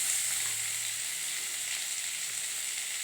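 Soya chunks tossed into onions frying in a pan for a chapati kurma, giving a steady, close sizzle with a soft stir partway through and no talking.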